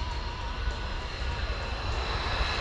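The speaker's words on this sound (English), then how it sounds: "F-35 taxiing by." An F-35 fighter jet taxis past at a military air show, giving a steady, loud engine roar with a dense broadband rush throughout.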